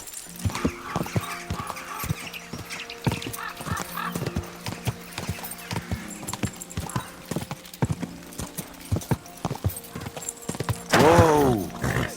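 Horse hooves clip-clop steadily in a medieval open-world game, a continuous rhythmic trot of close, crisp hoofbeats, ending with a loud neigh near the end.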